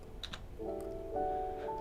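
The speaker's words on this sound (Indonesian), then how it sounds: "tekan lagi huruf R pada keyboard" A computer keyboard key is pressed a couple of times, giving faint, quick clicks close by, followed by a soft steady tone.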